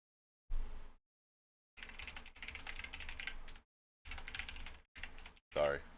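Rapid clattering keystrokes on a computer keyboard come in several bursts separated by silent gaps, close and fairly quiet, with a short voice at the very end.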